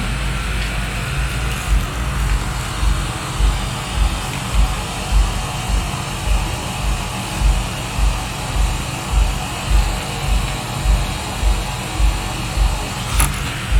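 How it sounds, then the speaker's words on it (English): A laptop cooling fan spins up on a dead laptop motherboard under repair, giving a steady, close whirring hum with a soft low pulse that repeats about every half second throughout. "Fan is spinning."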